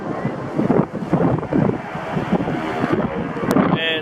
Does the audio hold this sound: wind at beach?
yes